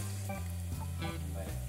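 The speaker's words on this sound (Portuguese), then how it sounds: "Aquecer um pouquinho, vai fritando devagarzinho, cuida do alho" Garlic frying slowly in hot oil in a pan, a steady close sizzle with soft crackles, with a low hum running underneath and no talking.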